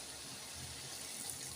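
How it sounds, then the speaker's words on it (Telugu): Water is poured into a pan of softened tomatoes cooking for a simple tomato chutney, making a faint, steady liquid splash and gurgle. "కొన్ని వాటర్ పోసుకోవాలండి ఇది ఉడకడానికి."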